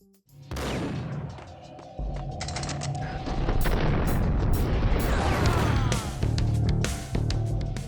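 Rapid, loud video-game gunfire from Max Payne, with bursts and booming shots piling into a dense, continuous barrage that runs almost the whole stretch with no talk over it.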